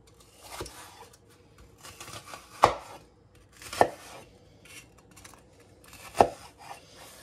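A knife chopping an onion into small squares on a cutting board, scattered soft cuts with a few sharp, distinct thwacks spaced seconds apart, close and clear.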